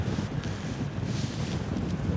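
Wind roars steadily across the microphone during a cross-country paraglider flight near Bassano, a loud, continuous rushing buffet with low rumbling and no voices.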